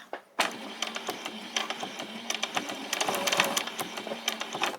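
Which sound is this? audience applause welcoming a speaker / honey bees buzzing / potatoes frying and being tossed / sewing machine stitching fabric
sewing machine stitching fabric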